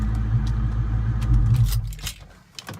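A 1998 Ford Mustang Cobra engine idles with a loud, steady low rumble up close, then is switched off and dies away, leaving a few clicks and light jingling sounds.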